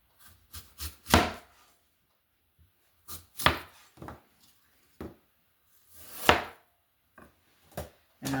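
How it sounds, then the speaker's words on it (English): Apples being cut into small cubes with a hand chopper, a series of crisp, close chopping thuds in irregular clusters separated by quiet pauses, with no talking. "All right, so I'm going to chop my apples."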